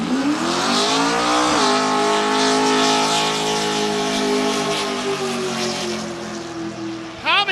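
A Vauxhall with a 6-litre LS V8 screams through a burnout at the Summernats 37 burnout final, engine held at high revs with a brief dip and surge, loud and close, tyres hissing beneath.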